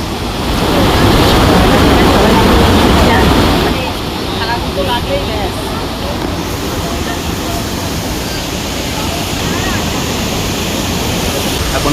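Water falls steadily down a cascade at a scenic spot near Ranchi, a loud continuous rushing roar that surges briefly early on and then holds even, with wind buffeting the microphone.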